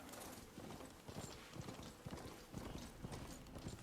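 Machine horse mount in Horizon Forbidden West, a steady run of metallic clip-clop hoofbeats with faint mechanical clanks over a busy game soundscape, no talk.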